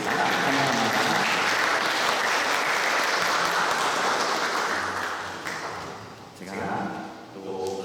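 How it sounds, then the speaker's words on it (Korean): A church congregation at a Sunday service applauding, dense sustained clapping from many hands that fades toward the end, with a voice speaking as it dies down. "우리 함께 박수로 찬양하고 축복하도록 하겠습니다"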